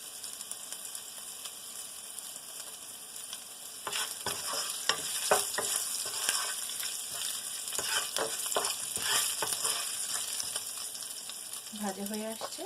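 Mixed vegetables for labra fry and hiss in a hot pan while a spatula stirs and scrapes them in quick bursts. The sizzle is close and continuous, and a brief voice sounds near the end.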